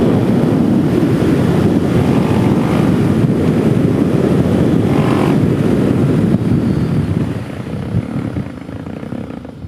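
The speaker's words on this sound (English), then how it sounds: "I'm feeling that wind. It's picking up" Strong, steady wind roars across the microphone while riding a DRZ 470SM supermoto motorcycle, a loud broadband buffeting rush that fills the whole stretch with a slight easing near the end.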